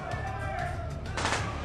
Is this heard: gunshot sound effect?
yes